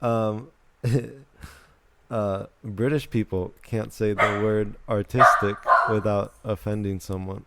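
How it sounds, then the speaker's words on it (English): A dog barks and yips in short bursts close by, mixed in with someone talking over it almost the whole time. "Please excuse the barking."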